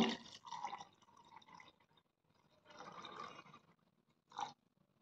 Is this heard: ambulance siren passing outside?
no